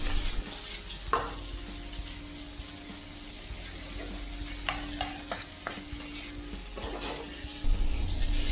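Meat sautéing in a cooking pan with a steady low sizzle, occasional stirring scrapes and light clinks of the utensil against the pan throughout.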